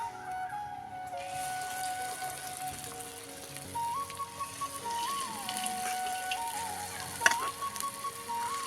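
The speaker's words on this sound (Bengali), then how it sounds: "হালকা তেলেতে এটা ছাড়তে হবে।" Dahi vada batter dropped into light oil in a kadai, a soft continuous sizzle and crackle, fairly quiet, with a faint steady tone running underneath and a sharp knock near the end.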